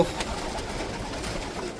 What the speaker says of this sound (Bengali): এত এত পায়রা একটা খোঁপের মধ্যে উড়ে বেড়াচ্ছে